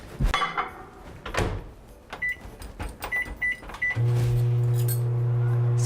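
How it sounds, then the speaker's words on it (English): Microwave oven used to melt a stick of butter: clattering door and cupboard handling, several short beeps as buttons are pressed, then a steady humming drone as the oven runs. "Stick of butter into the microwave."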